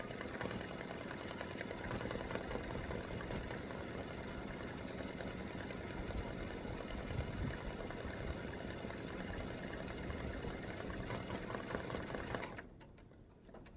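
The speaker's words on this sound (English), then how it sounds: "I'm here, I'm going to let it stitch the loops." A home embroidery machine stitches freestanding lace loops for Halloween Boo earrings, its steady rapid needle chatter running close and continuous for about twelve seconds before stopping abruptly.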